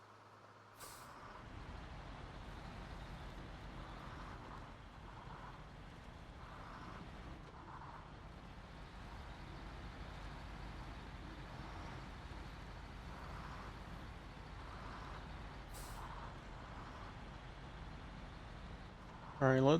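GMC truck engine in the Snowrunner video game, a steady droning rumble running continuously throughout, with faint periodic tonal bursts layered over it, fairly even and moderate in level.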